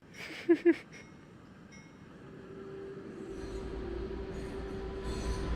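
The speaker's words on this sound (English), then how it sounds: "This will be our train that goes back and forth." Train rolling along rails in the city-building game Cities: Skylines, a low rumble building steadily after two brief clanks, with faint wheel squeal, moderately distant.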